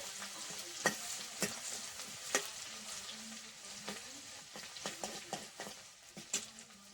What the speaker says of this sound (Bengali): রসুনটা একটু ভাজা ভাজা হবে